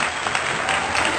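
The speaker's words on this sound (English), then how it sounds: "he's going to put in the claps." A canned burst of applause is dropped into a podcast, a short, dense patch of clapping at steady loudness.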